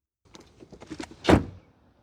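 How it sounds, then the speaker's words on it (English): The door of a 2024 GMC Acadia Denali SUV swings shut with a single solid, heavy thunk, close up. A few faint latch and handle clicks come just before it. "let's listen to the sound of the closing door"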